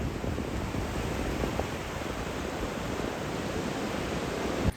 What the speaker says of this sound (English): Can't see the water because of the dunes, but I can hear it